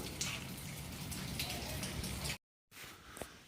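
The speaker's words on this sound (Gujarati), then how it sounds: "જો આમ વરસાદ જ છે આ" Rain falls at night in Bagavadar, a steady soft patter of drops that cuts out briefly and then resumes, fairly faint throughout.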